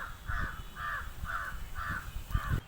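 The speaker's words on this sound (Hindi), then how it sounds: "यहाँ पे आपको पक्षियों की चिलचिलाहट काफ़ी सुनाई देगी, क्योंकि अभी हम वनों के वादियों में हैं।" Crows cawing in a forest, five evenly spaced harsh caws repeating at a steady rhythm, moderately close, over a low rumbling background with no talk.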